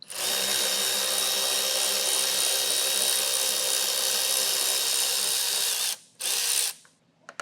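A 10mm bolt being removed from a 2023 Jeep Grand Cherokee L with a power ratchet, which gives a loud, continuous close-up whir for about six seconds before a short final burst and then quiet, with no speech.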